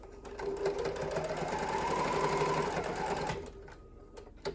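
A sewing machine back stitching a 3/8-inch fabric seam runs loud and close in a steady rapid whir for about three seconds, then stops, followed by a few light clicks.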